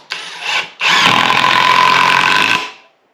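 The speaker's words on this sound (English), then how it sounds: "I've been using this one for a few weeks now, and it's a really good little impact." A cordless impact driver that takes DeWalt batteries whirs loudly and close for under two seconds after a brief first burst, then winds down, with no talking.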